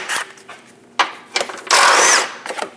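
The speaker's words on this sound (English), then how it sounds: "Using a 15mm socket, remove the 2 bolts for the front air dam." A 15mm socket on a power tool backs out the front air dam bolts under a 2003-2025 Chevrolet Express 2500 van, heard as several short whirring bursts followed by one longer buzzing run, close and fairly loud.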